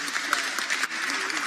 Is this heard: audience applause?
yes